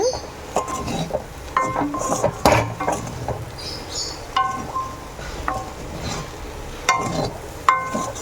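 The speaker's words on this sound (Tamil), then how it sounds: "நல்லா மிக்ஸ் பண்ணிக்கோங்க" Salted raw banana slices are tossed and stirred for a fry, giving scattered light scrapes and metallic utensil clinks against the pan over a soft background hiss.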